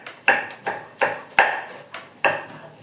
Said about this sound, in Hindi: छुरी अगर तेज़ नहीं होती है तो उसका पता चलता है टमाटर या हरी मिर्च के साथ